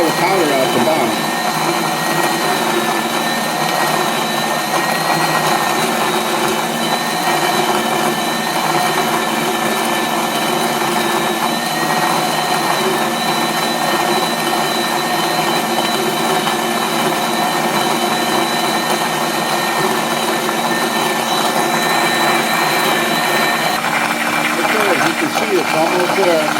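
A KitchenAid flour mill attachment grinds grain into powder with a steady, loud mechanical whine and hum that runs unbroken throughout, while a person talks over it.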